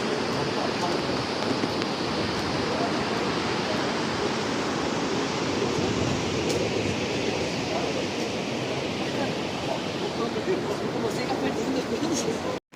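A waterfall roars steadily behind a trekker on the Annapurna Base Camp trail in Nepal, a loud, constant broadband rush of falling water filling the whole clip with no break.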